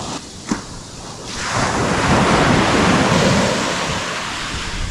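Ocean surf washes onto a beach at sunrise, a broad steady roar of breaking waves that swells after a soft start, with some wind buffeting the microphone and no voices.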